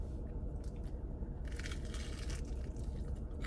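Fried food is bitten and chewed during a car mukbang, giving close, repeated crunching and crackling bursts over a steady low interior rumble, with no talking.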